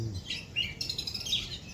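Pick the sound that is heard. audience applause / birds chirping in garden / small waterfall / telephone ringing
birds chirping in garden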